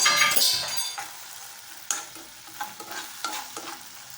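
Sliced onions hitting hot oil in a pan for mushroom 65, a loud sizzling burst at first that settles into steady frying, with spatula clicks and scrapes as they are stirred.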